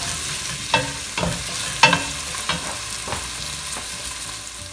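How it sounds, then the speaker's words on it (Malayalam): Ingredients for Kerala-style puzhukku sizzle steadily in a pan while a spoon stirs them, scraping in about half a dozen distinct strokes spread evenly over the frying hiss, with no talking. "അത് നന്നായി വഴറ്റി കൊടുക്കുക."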